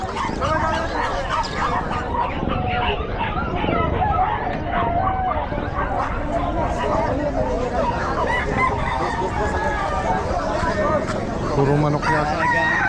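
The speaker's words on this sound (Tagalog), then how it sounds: "Puro manok yata." Chickens and roosters crow and cluck in a busy pet market, with dogs barking among them and people talking throughout, the birds close and loud with repeated calls over steady crowd noise.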